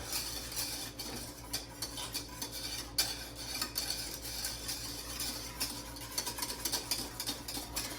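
A spoon stirs custard thickened with starch in a pot, producing faint continuous scraping and swishing with occasional light clinks against the metal, quiet and alone.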